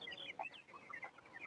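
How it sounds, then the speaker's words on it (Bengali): Chickens about 24 days old on a poultry farm cluck softly in scattered short calls, fairly faint and distant, with no talking. "আমাদের মুরগিগুলো দেখেন কত সুন্দর চলাফেরা করতেছে।"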